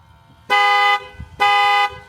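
A Tesla comes back to life after a jump start, sounding two loud, even horn toots about a second apart, each held for half a second, close and clear with no talk.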